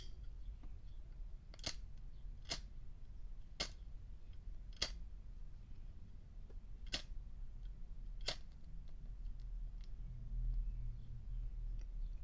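A vintage Oasis cigarette advertising lighter is flicked several times, giving crisp, isolated metallic clicks every second or so against a quiet, low hum, up close and without talking.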